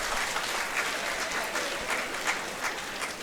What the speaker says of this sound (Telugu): పద్యం చదవగానే చప్పట్లు కొట్టేవాళ్ళు ఇంకా ఆనందంగా, ఉత్సాహంగా ఉన్నందుకు నాకు సంతోషం.